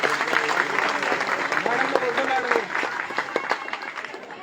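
Crowd applause at a political gathering welcoming Indian National Lok Dal party workers, clapping that gradually thins out, with voices talking over it.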